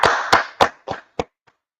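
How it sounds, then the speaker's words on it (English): A congregation claps several times, five sharp, loud bursts spaced at a steady rhythm that shrink and die away, with a faint last clap at the end and no talking. "Let's clap it up for the Most High in Christ"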